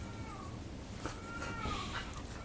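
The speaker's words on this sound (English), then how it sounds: "Shut up, cat!" A cat meows in a few drawn-out cries, faint and somewhat distant under steady background noise.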